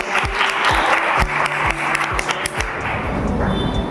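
Audience applause at a direct-selling business success seminar, dense and fairly loud clapping with a few heavy thumping hits in the low range, fading to a lighter spread of claps.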